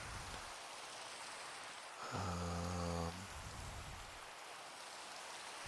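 Rain falls at night in Minecraft, a steady soft hiss of drops throughout, briefly joined by a short harmonic tone in the middle.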